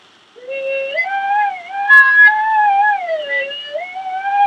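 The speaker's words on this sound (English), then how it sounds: "It sounds like this if I play my flutophone." A small plastic flutophone, a recorder-style toy flute, plays a continuous wavering melody, one breathy reedy note sliding into the next over several seconds, close and clear with no voices.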